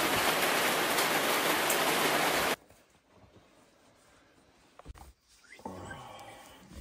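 Heavy rain pouring down in Perth, Western Australia, a loud dense roaring hiss that cuts off abruptly after about two and a half seconds, leaving quieter ambience with a few faint knocks and softer rain returning near the end.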